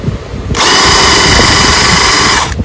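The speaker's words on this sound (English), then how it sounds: "Put the plug back in, and then spin the drill." A power drill spins a 1958 3 HP Johnson JW-14 outboard motor, running steadily at a loud, high whine for about two seconds, then cutting off, with a noisy rumble underneath.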